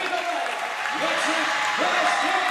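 A high school volleyball crowd cheers and claps for district champions at an A-4 district final in a gym, with steady applause under a voice calling out over the noise.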